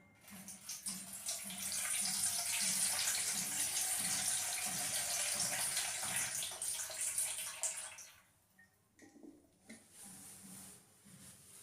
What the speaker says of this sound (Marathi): सगळं पाणी आपण या ठिकाणी टाकलेलं आहे